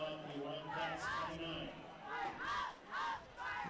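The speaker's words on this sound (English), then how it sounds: "can hear the Eagan cheer squad trying to fire up the pit down below" A high school cheer squad at a football playoff game in Eagan, chanting and cheering in rhythmic group bursts from a distance, with crowd noise underneath.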